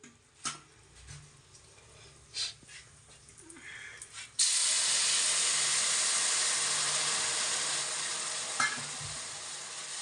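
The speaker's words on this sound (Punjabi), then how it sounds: "ਹੁਣ ਇਹਦੇ ਵਿੱਚ ਆਪਾਂ ਪਾ ਲੈਣਾ ਜਿਹੜੀ ਆਪਾਂ ਨੇ ਚਾਸਨੀ ਬਣਾ ਕੇ ਰੱਖੀ ਸੀ" Jaggery syrup is poured into halwa cooking in a pan. A few soft stirring knocks are followed by a sudden loud hiss that settles into a steady, close sizzle lasting to the end.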